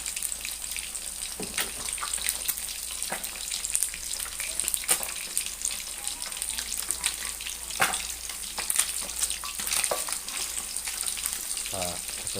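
Yisok fish fries in hot oil with a dense, crackling sizzle that pops and spits irregularly throughout, heard fairly close and steady for over ten seconds.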